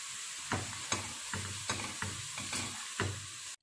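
Spinach being stirred and sautéed in a pan, with a spoon scraping in regular strokes about every half second over a steady soft sizzle.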